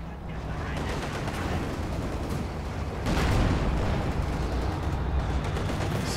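Continuous dense crackle and rumble of battle in Company of Heroes 2 as a KP1 artillery barrage pounds the area, with a heavier burst of impacts midway, steady and loud throughout.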